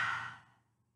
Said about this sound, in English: Three more breaths.